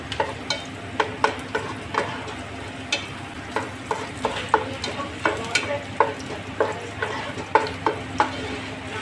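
Onions added to a hot pan already holding garlic for a sweet and sour tilapia sauce, sizzling steadily while being stirred, with repeated scraping clicks of a utensil against the pan.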